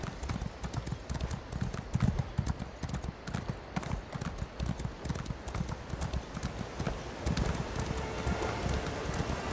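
A horse's hooves clip-clop steadily in a fantasy game world of Elder Scrolls Online, a continuous rhythmic trotting that stays near and fairly loud throughout with faint ambient rustle behind it.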